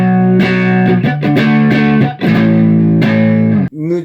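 Gibson Les Paul Oxblood on its front pickup driven through a BOSS Blues Driver overdrive, loud strummed chords with thick sustained distortion, a few brief breaks between hits, and a short bent note at the end.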